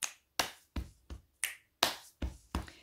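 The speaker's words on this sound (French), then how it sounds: "tu me vois, je fais claquement de doigts." A run of eight sharp finger snaps, close and crisp, each one followed by a short decay, spaced fairly evenly with a brief pause midway.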